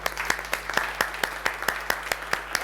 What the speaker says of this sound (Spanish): yo les voy a pedir un gran aplauso a la doctora